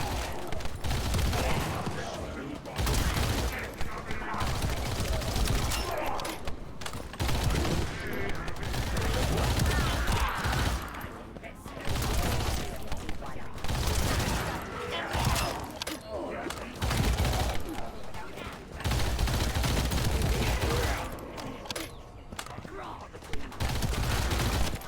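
Gunfire rattles almost without pause while enemies are shot down in The First Descendant, loud rapid bursts of automatic fire and blasts that stop briefly at times, with a voice talking over the shooting.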